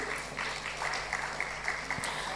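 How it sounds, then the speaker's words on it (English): Quiet applause from a conference audience at a Nigerian Bar Association business law event, a soft, even patter of many hands heard from a distance, brief and low in level. "A round of applause for him"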